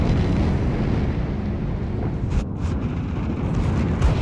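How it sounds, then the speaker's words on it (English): Torpedo hits exploding against a warship in World of Warships, a dense continuous rumbling roar of blasts that holds loud and steady throughout, with a few sharper bursts near the middle and end. "Just when I activated my repair, I got hit by torpedoes."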